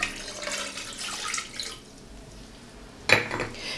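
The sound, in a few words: pouring water for cinnamon clove syrup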